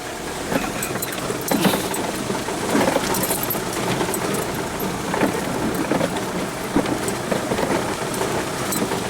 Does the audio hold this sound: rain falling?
yes